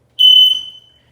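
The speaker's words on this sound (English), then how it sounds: "We're going to check all the smoke detectors and carbon monoxide detectors. If they're there, we're going to make sure they work." A smoke detector tested during a bi-annual owner inspection gives one loud, piercing electronic beep lasting about a third of a second, close by, then a short ringing decay into silence.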